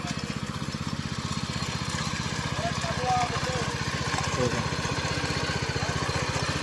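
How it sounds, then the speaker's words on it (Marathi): A tractor engine tilling a wet village field in the Konkan, running with a steady, throbbing mechanical drone that holds at a constant level for the whole stretch, with voices faintly present. "ट्रॅक्टरने उकळ घालता."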